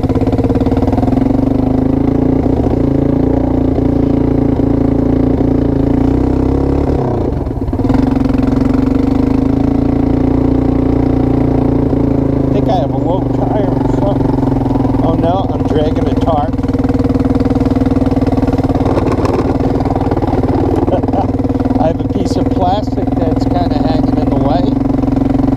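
A Suzuki Quadrunner 250 ATV with a swapped PZ30 clone carburetor idles steadily and close up, a constant mid-pitched engine hum with slight dips, while someone talks over it throughout.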